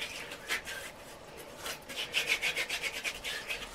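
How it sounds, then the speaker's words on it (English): Hands rubbed together with a sugar scrub make a gritty, rasping swish, starting in scattered strokes and settling into quick rhythmic back-and-forth rubbing near the mic, with no talking. "When you rub your hands together, like rough."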